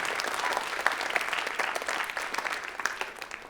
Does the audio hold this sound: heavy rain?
no